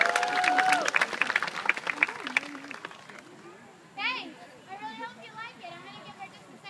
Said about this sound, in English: please give a big round of applause for Miss Jada Lee on aesthetic trapeze.